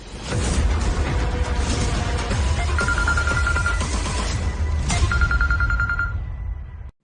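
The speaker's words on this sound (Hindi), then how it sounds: "फोन बजता ही रहेगा क्या?" A telephone rings in two bursts of rapid trilling bell tones, heard over a busy background of rumbling noise and clatter.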